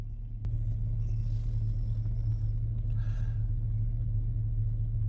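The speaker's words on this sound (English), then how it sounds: "Vehicle's currently running." The engine of a 2007 Chevy crew cab truck idles with a steady, loud low rumble that holds evenly throughout, with no voices over it.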